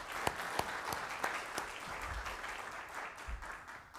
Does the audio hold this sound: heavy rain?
no